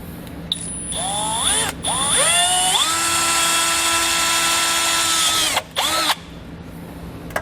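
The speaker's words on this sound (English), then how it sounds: "I'm going to drill through the plastic plug so that I can reach my wire all the way down to the bottom" A power drill with a 1/4 inch bit bores through a plastic plug, its motor whining up in pitch in short bursts, then holding a long steady high whine before cutting off, close and loud.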